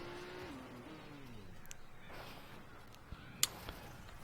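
A race car engine in TrackMania Turbo, stadium track, accelerating under full throttle: a steady mid-level drone with rising pitch sweeps and a few short clicks near the end.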